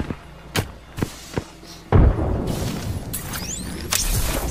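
A frag grenade thrown in the video game Apex Legends: a few sharp thumps, then a heavy boom that rolls on as noisy rumble, with a brief whoosh later over the ongoing game noise.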